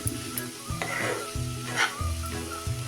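Raw jackfruit curry being stir-fried in a pan, with a steady sizzle and several rhythmic scraping strokes of a spatula, close and fairly quiet, without talk.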